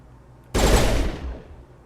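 A single loud blast of gunfire in Mass Effect erupts suddenly after a quiet moment, then decays over about a second into low rumble.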